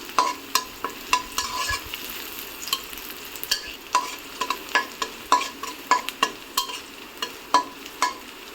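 Browned onions and whole cumin sizzle in a pan for a hilsa fish and ash gourd curry, with a steady fry under regular scraping stirs of a spoon against the pan.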